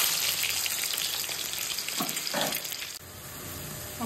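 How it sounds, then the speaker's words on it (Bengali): An egg fries in a kadai, a loud continuous sizzle heard up close, with a few scraping stirs partway through before the hiss settles. "ডিমটা ভেজে দিচ্ছি আমি।"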